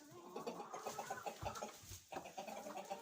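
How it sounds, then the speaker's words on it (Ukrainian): Hens clucking nearby in a quick, busy chatter as they scratch in straw, with soft rustling underneath, a brief pause midway before the clucking resumes. "Ось греблись у соломі кури."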